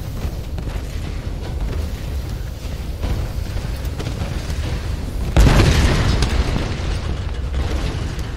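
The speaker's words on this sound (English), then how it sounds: "How do we get a bigger explosion?" Explosion in the Tomb Raider video game: after several seconds of rumbling background noise, a sudden heavy boom bursts out and rolls into a sustained roar before easing back.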